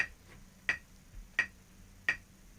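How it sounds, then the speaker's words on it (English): Hands clap in time with a metronome during a music lesson, four sharp, evenly spaced claps about 0.7 seconds apart over a faint ticking background. "Clap with the metronome."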